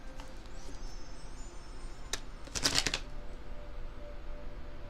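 Tarot cards being shuffled in a quick riffling burst, close and crisp, with quiet handling before and after; no voices.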